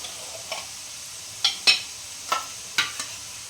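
Egg dal tadka, with the tempering fried until reddish, sizzles in a pan, a quiet frying hiss punctuated by four or five sharp, close stirring scrapes at irregular intervals, with no speech.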